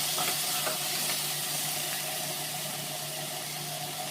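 Masala with ginger and green chilli frying in a pan, a steady soft sizzle with occasional faint stirring, heard alone.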